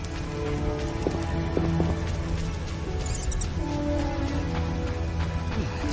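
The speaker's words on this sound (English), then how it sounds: "Some serious rain." Steady rain falls in a rural setting in The Witcher game, a constant dense patter of drops on surfaces at moderate level throughout, with no voices.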